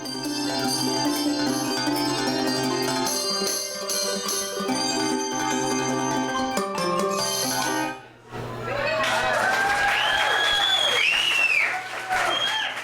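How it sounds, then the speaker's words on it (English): A handbell choir rings a dense run of bell tones, many bright pitches layered at once, loud and close, with a brief dip before ringing swells again with shimmering, overlapping strikes. "So the small bells play the high pitches and the really big bells play the low pitches."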